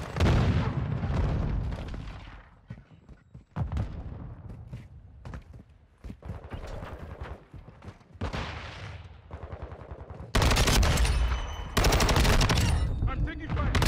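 Video game gunfire from Modern Warfare 2: loud bursts of automatic rifle fire and booming shots come in clusters separated by brief quieter gaps, with heavy, dense volleys near the end.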